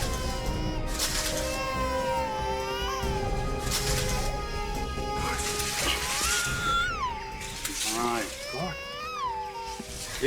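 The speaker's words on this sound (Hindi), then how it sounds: "उस तरफ से बच्चे के रोने की आवाज आ रही है।" A wailing cry, high-pitched and rising and falling in long strained bursts over steady background noise, sounding like an infant crying or a cat caterwauling.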